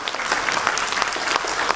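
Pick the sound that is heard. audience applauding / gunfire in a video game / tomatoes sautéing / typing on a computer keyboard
audience applauding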